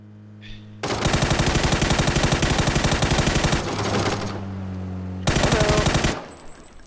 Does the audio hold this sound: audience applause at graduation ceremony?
no